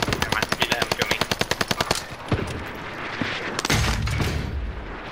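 Gunfire in the video game Call of Duty: Modern Warfare: a rapid, loud machine-gun burst with evenly spaced shots, followed by scattered booms and blasts.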